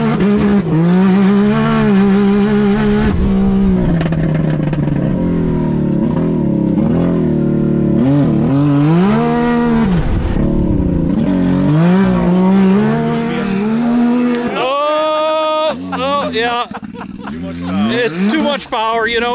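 A 350 HP Can-Am Maverick R side-by-side with an Evo Stage 5 tune and launch control, out in cold weather, revs hard and close, its loud engine note climbing and falling in repeated sweeps with sharp bursts near the end.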